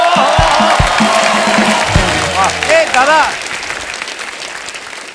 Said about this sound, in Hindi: जोरदार तालियां हो जाए मेरे भाई के लिए